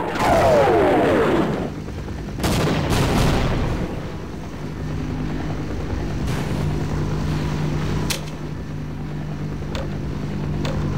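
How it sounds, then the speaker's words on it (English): Heavy bombing explosions in Half-Life: a loud booming blast at the start, then further muffled thuds and rumbling impacts over a low droning hum, with no talk. "They're bombing the area."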